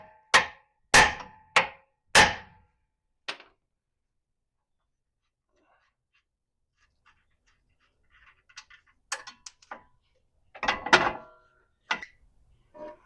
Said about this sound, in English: So let's take your hammer and you'll hit this right here a few times and knock it out.